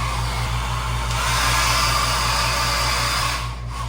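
A hair dryer blows steadily at close range, a constant broadband whoosh with a low motor hum, running continuously without any talking.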